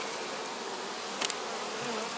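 Honey bees buzzing steadily at a hive during requeening, a dense, continuous close drone filling the short stretch, with one brief louder flicker from a passing bee partway through.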